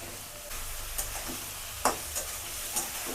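Cauliflower frying in a pan and being stirred, with a low steady sizzle and a few brief scraping stirs close by, no talking.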